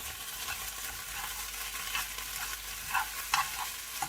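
A savoury egg mixture cooks in a pan with a soft continuous sizzle, while occasional spoon scrapes and light knocks of stirring rise above it near the end.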